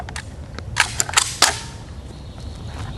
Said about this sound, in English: So you're gonna insert the mag.